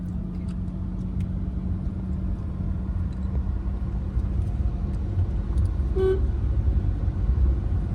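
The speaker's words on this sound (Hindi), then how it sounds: "एक लॉन्ग हॉर्न प्रेस कर दो" Over a constant low rumble of a moving car, a single short horn toot sounds near the end.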